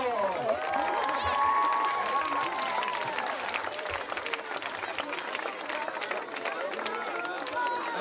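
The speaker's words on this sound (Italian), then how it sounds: "Brave, brave, accompagniamole con un applauso." Audience applause and cheering for young performers at a GREST 2022 opening evening held at a church recreation centre in Cormòns, sustained dense clapping throughout with voices and shouts mixed in.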